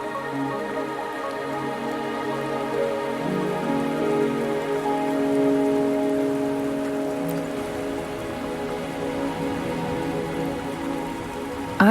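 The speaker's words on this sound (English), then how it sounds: "Don't worry, the rain won't last much longer." Steady rain in the video game Wuthering Waves patters on a surface, a continuous soft hiss with faint tonal music underneath, no voices.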